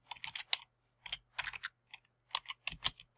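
Quick bursts of clicky keystrokes on a computer keyboard, typed in short irregular runs separated by brief pauses, close and crisp with a faint steady hum underneath and no talk.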